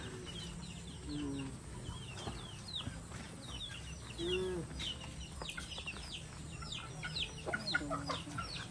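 Chickens and chicks on a farm, heard as steady clucking and many high peeping chirps at close range, with one drawn-out cluck in the middle, over a low background hum.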